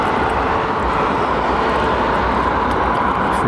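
Airbus A350 airliner at London Heathrow Airport, a steady loud jet engine roar that holds constant throughout.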